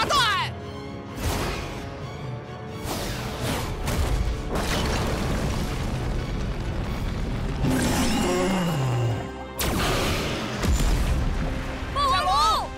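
A cartoon monster unleashes a heavy rock bomb attack, bringing repeated loud booming blasts and crashes mixed with a sweeping whoosh and dramatic music, with character voices shouting throughout.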